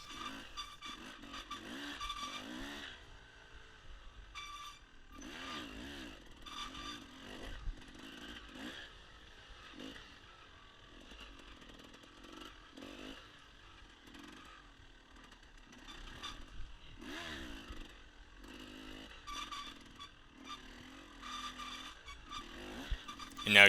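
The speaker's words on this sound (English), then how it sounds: "Maybe riding in just a little bit too high of a gear, especially my first time out on this bike." An enduro motorcycle ridden off-road in too high a gear, engine revving and bogging in uneven bursts with rising and falling pitch, recorded close from the rider's position, no talking.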